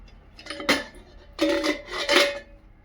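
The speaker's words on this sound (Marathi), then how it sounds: "कुकरची वाफ गेली आहे। आता आपण खोलून बघू।" Metal clinks and clatters as a steel pressure cooker lid is unlocked and lifted after cooking amla, three short bright bursts spaced about a second apart, close and clear with no talking.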